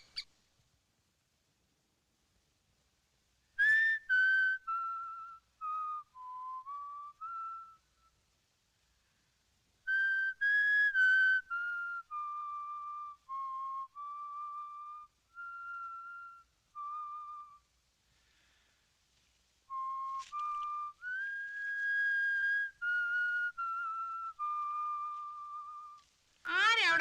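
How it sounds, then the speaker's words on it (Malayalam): A person whistles a wandering tune inside a prison cell, in clear, close melodic phrases broken by pauses of near silence. "ചൂളം അടിക്കുന്നേ?"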